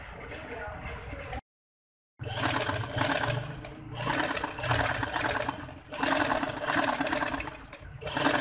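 A sewing machine runs in steady bursts, close and fairly loud, while stitching a strip onto a handkerchief-cut frock, running over an existing seam. A short silent gap breaks the run early on.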